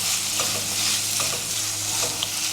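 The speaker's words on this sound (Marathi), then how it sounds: "आता टोमॅटो चांगला मऊ होईपर्यंत परतून घ्यायचं" Tomatoes and grated dry coconut sautéing in a pan for a Maharashtrian thali dish, a steady close sizzle with repeated scraping stirs of a spatula throughout, no voices.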